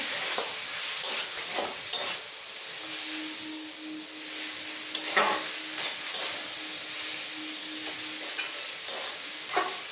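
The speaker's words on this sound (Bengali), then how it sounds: "এখন 2 টেবিল চামচ টমেটো সস দিয়ে দিলাম। আর একটু ভালো করে ভেজে নেব।" Chow mein frying in a pan with tomato sauce stirred in, a steady sizzle with scraping spatula strokes at irregular intervals, close and fairly loud with no voices.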